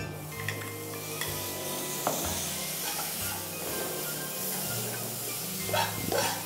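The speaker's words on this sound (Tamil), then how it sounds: "வாழைப்பூ அதில் மிக்ஸ் பண்ணுறோம்" Banana flower is stir-fried with masala in hot oil in a pan: soft sizzling runs underneath while scattered scrapes and knocks of a spoon against the pan mark the stirring. No one speaks.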